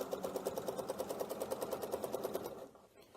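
A sewing machine stitches quilted circles in a fast, even rhythm of needle strokes, close and fairly quiet, then slows and stops near the end.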